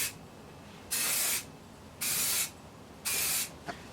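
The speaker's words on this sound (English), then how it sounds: "And now I'm going to start spraying it" Three bursts of aerosol spray paint hiss from a spray can in even passes over an engineer's quick-release vice, each about half a second long and separated by quiet pauses.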